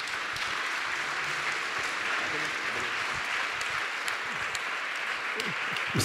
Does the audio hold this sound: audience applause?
yes